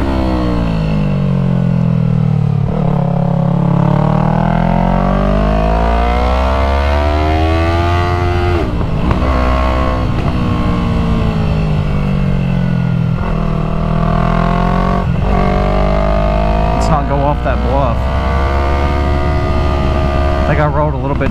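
A Yamaha MT-03 with a full exhaust system drones loudly and continuously through a sharp hairpin on a twisty road, revs sweeping up and down as the throttle rolls on and off, with wind buffeting throughout.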